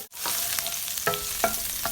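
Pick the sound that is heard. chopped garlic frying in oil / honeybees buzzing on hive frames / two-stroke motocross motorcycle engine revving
chopped garlic frying in oil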